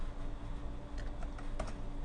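Typing on a computer keyboard during a lesson, with soft scattered key clicks over a steady background hum, without talk.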